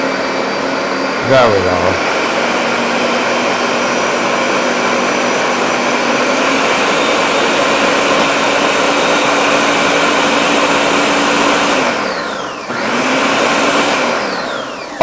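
A blender purées a sauce made with artichoke hearts and lime juice, a loud continuous motor roar that dips briefly near the end before resuming, with a short spoken remark at the start.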